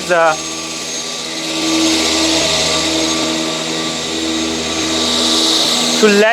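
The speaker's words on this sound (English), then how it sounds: "Then press vacuum pump 1 and vacuum pump 2." A steady, loud mechanical whine and hum of a CNC router's vacuum pump running continuously to hold an MDF sheet, with brief voice fragments at the start and end.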